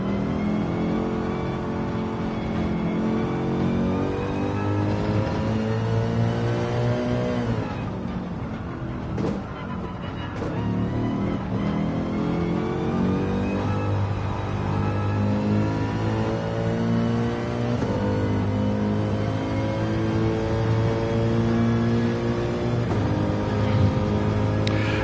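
A Nissan GTR engine in a racing video game revs steadily, a sustained droning tone climbing and dropping in pitch with a brief shift dip midway, loud and continuous with no talk.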